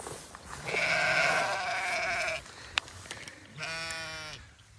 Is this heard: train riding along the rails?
no